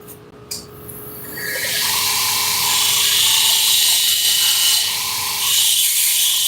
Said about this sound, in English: use my little belt sander for a minute